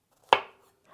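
A single knife stroke cuts through a large mushroom, being quartered for chicken soup, with a sharp thunk on the board that rings briefly and fades. No one speaks.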